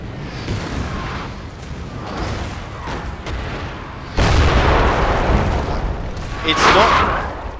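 Straight-bore 6-pounder cannons fire in a Napoleon video game mod, sending a run of booming blasts and rumbling reports. A loud crack lands midway and another heavy burst comes near the end, with battle noise between them.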